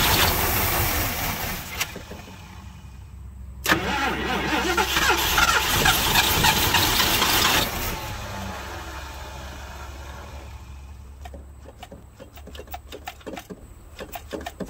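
A 1973 Ford Mustang left abandoned in a cow field for 30 years, with a faulty accelerator pump, cranks with a rapid rhythmic whir, catches and runs roughly for a few seconds, then stops and leaves faint ticking.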